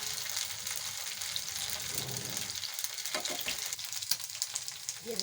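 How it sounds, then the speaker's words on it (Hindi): Chicken macaroni koftay shallow frying in oil in a pan, a steady close sizzle with soft crackles and occasional stirring scrapes, no talk. "आपने इनको शैलो फ्राई करना है, डीप फ्राई नहीं करना"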